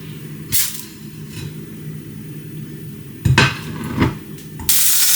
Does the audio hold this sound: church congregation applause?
no